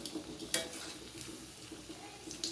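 Soybean dhoka frying in oil until reddish, a steady close sizzle of bubbling oil with a few soft clinks of a utensil against the pan, no talking.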